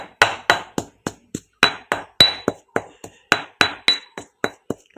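Garlic pounded in a mortar while making stuffed-squid tom yum with minced pork: a steady run of about twenty sharp, close thuds with a clinking edge, evenly paced and loud, with no talk.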